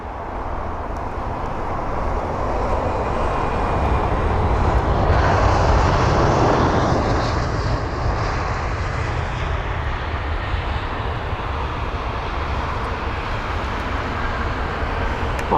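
An Airbus A319 arriving at London Heathrow from Amman gives a steady, loud broadband jet roar that swells around the middle and then holds at a constant level, with no talk.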